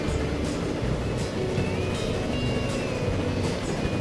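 A passenger train in the Transport Fever video game rumbles along at speed, a steady close rolling noise with faint repeated chuffing pulses and no talk.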